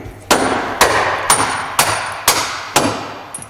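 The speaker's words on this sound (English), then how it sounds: "It's no problem at all to use a lightweight mallet like this to give it a few taps to get it in." A 2-pound phenolic mallet taps a stubborn bolt into an independent rear suspension, six sharp, evenly spaced knocks about half a second apart, each ringing briefly, close and fairly loud.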